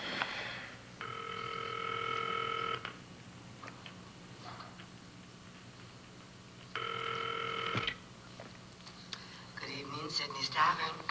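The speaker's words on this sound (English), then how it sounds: "I have to make a phone call." Telephone handset tones during a call being placed, two sustained electronic ringing bursts separated by a quiet gap, followed by faint clicks, with a voice speaking between the tones.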